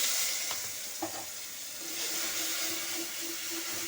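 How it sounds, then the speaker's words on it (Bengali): Green chilli paste fries in hot oil in a pan, giving a steady, close sizzle and hiss with a few faint stirring scrapes and no voices. "এটা কাঁচা লঙ্কাটা ভাজা হোক"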